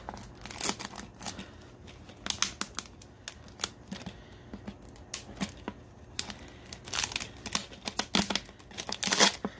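Scissors snip and crinkle as labels come off plastic bottles, sounding as irregular close-up cuts and rustles of plastic and paper over a quiet background.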